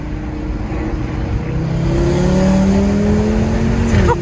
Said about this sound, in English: That exhaust is ridiculous, isn't it?